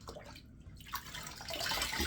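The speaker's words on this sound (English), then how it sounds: "right now I'm just rinsing out my washcloth in the warm sink water here" A washcloth is rinsed in warm water at a bathroom sink, giving a continuous close splashing and trickling with a brief quieter gap early on, and no talking.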